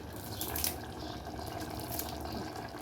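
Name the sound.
water being poured into cooking pot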